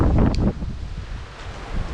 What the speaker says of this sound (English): although it's very, very windy